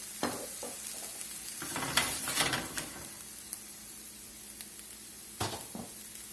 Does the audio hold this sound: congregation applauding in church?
no